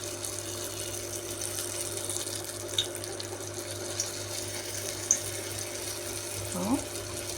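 Crispy dough pieces fry in hot oil with a steady, close sizzle, broken by a few sharp pops and crackles, and a faint voice is heard near the end.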